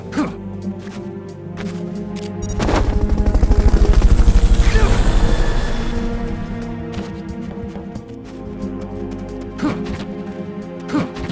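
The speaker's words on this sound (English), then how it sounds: "Fulton recovery subject confirmed onboard helicopter." A helicopter in the video game Metal Gear Solid: Peace Walker gives a rhythmic rotor thump that swells loud in the middle and fades, with short game effects around it.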